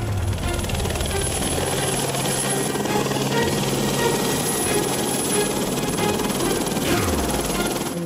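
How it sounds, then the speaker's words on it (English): A helicopter about to take off drones loudly and continuously nearby, its rotor chop and engine whine steady throughout. "there's a helicopter just about to take off"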